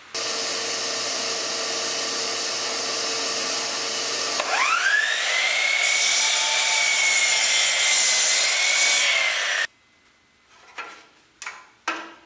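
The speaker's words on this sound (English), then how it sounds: "So first of all, I got to get this board cut." Power saw cutting a wooden board for a bathroom light fixture, one loud continuous whine that rises in pitch partway through and cuts off abruptly, followed by a few short knocks.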